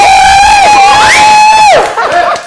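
A wedding show crowd cheers and whoops loudly and close for a couple of seconds, a sustained burst of voices that drops off briefly near the end.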